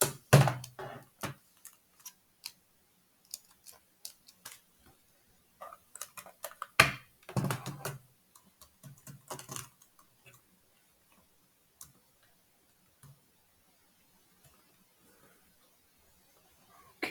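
Scattered clicks and taps of computer keyboard keys, coming in irregular bursts with short pauses, fairly quiet and close, with no talking.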